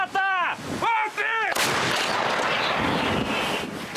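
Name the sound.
artillery gun firing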